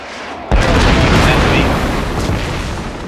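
A shell strikes a warship in World of Warships, setting it on fire: a sudden loud boom bursts in after a quiet half second, then a dense rumbling roar of fire and debris carries on to the end, with faint speech mixed in.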